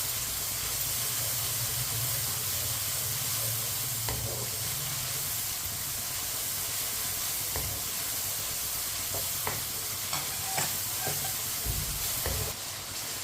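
Tomatoes and garlic sizzle in a pan for masoor dal, a steady close frying hiss with occasional spoon stirs and scrapes against the pan.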